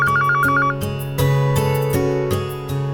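A telephone rings in a conference-room office setting, a repeating electronic trill of short pulses at the start, then fading into loud background music that continues throughout.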